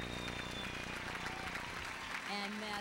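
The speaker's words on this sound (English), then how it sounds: "all those people out of their seats now, cheering on the cast of The Goodbye Girl" A Broadway audience on its feet cheering and applauding the cast of The Goodbye Girl, a dense, steady roar of clapping and shouts with voices mixed in throughout.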